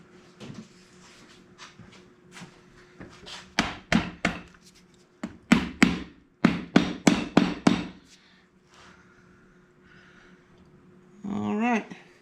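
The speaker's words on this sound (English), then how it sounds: "I think I'm going to have to get a little bit of a whack here on the corner with my rubber mallet" A rubber mallet strikes a KA24DE cylinder head on a 240SX engine, seating it onto a dowel: a dozen or so close, dull thuds come in uneven bursts, some in quick runs, followed by a brief low rumble.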